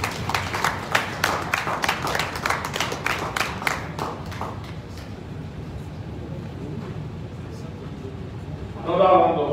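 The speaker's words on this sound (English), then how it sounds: "Another round of applause for the professor." An audience at a political party committee inauguration claps loudly in a burst of distinct, rhythmic hand claps that fades out over a few seconds, leaving quieter room noise before a voice comes in.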